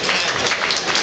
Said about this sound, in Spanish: Un aplauso por favor al maestro Sixto Valencia